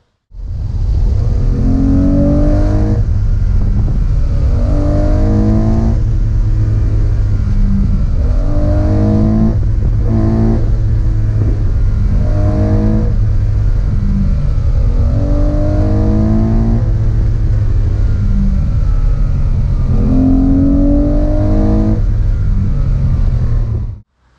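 Rally car with an intermittent fault, recorded on a drive: a loud, close engine with repeated rising revs and gear changes every few seconds over a constant low rumble.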